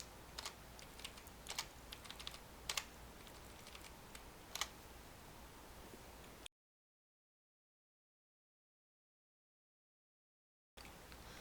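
Fingers tap out a password on a computer keyboard, quiet irregular clicks with a few sharper keystrokes over faint background hiss, then the sound cuts to dead silence before a brief return of hiss.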